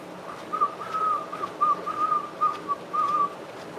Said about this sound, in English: I'm gonna start whistling.